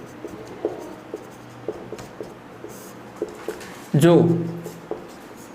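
Chalk or marker taps and scratches on a classroom board as a maths teacher writes out a definition, short strokes recurring every half second or so, with someone speaking over the later part.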